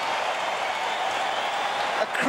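Tennis crowd on its feet cheering and applauding after a spectacular Federer point, a dense steady roar of clapping and voices throughout, with a brief swell near the end.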